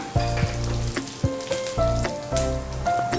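Curry leaves and two dried chillies drop into hot oil, throwing out sharp crackling sizzles and spattering pops in uneven bursts, with a tonal clink and ring from the pan between them.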